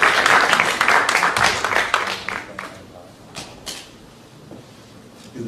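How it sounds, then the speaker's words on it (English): Audience applause at a college African American male leadership symposium, a burst of clapping that fades over a few seconds into a quieter room, with scattered claps trailing off near the end. "let's give a round of applause"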